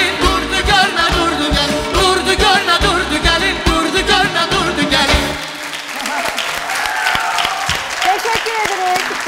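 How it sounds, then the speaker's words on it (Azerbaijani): Music from an Azerbaijani folk performance ends and an audience breaks into sustained applause, steady, fairly loud clapping filling the rest of the clip. "Təşəkkürlər, alqışlar sizindir"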